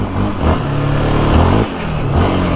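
A 2024 Yamaha Raptor 700R ATV engine with stock exhaust revs up close and loud, its throaty drone rising and falling through a couple of throttle swells.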